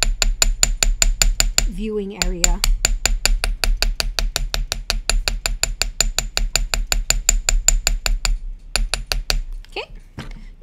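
A small hammer taps rapidly and steadily on a wire bangle loop, flattening the metal in a long run of sharp, bright metallic strikes, with a brief spoken phrase partway through.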